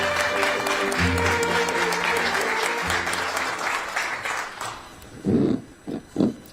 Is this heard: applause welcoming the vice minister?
yes